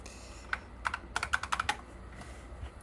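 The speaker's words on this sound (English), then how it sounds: "This is a gaming keyboard" Fast, uneven bursts of keystrokes tapped on a gaming keyboard, about a dozen crisp clicks clustered in under two seconds, close and fairly quiet against a low background hum, with no talking.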